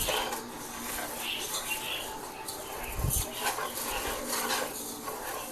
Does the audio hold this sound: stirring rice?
yes